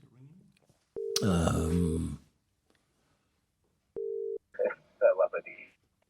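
A telephone tone beeps, then a burst of harsh noise cuts in and drops away as the phone line drops out, a second tone sounds, and a voice briefly speaks after.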